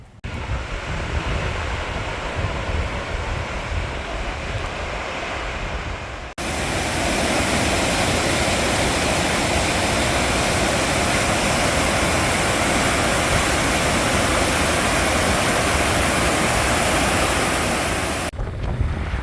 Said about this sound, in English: the waterfall Sour Milk Gill is absolutely storming down